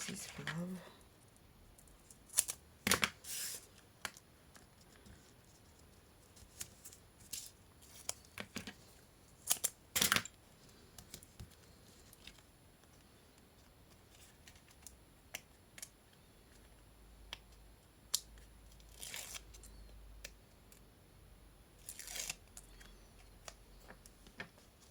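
Scissors snip craft foam for a handmade card in sparse, sharp clicks and cuts scattered across a quiet room, some close together and some isolated, with faint background talk.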